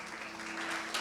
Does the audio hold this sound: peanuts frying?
no